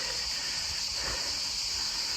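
Crickets chirping on a hot mountain climb road, a dense continuous high shrill drone holding steady throughout, moderately loud and alone with no talk.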